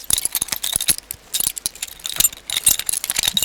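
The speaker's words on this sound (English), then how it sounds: "Here someone is shuffling these keys in his hand" Door keys jangling and clinking in a hand, a rapid, irregular run of close metallic rattles with brief pauses.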